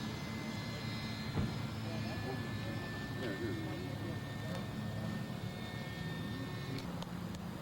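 An F5B competition model airplane flying over Mission Bay in 1997 gives a thin, steady motor whine in the background, with a person talking over it throughout.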